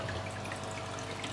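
Aquarium water stirred at the surface gives a steady, moderate trickling and splashing wash that runs unbroken, with a faint low hum beneath and no talking.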